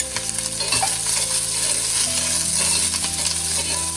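Chopped onions and green chillies frying in oil in a pan for a Tamil lentil rice dish, a loud continuous sizzle with stirring clinks and a steady background hum, no talking.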